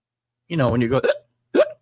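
A voice imitating hiccups, with a short voiced burst followed by a sharp gulping hiccup sound, close and clear.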